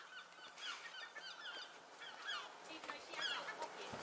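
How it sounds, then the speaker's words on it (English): Gulls call repeatedly in overlapping, honking cries, moderately close outdoors in Scotland, with a steady wash of background noise throughout. "Got all those seagulls."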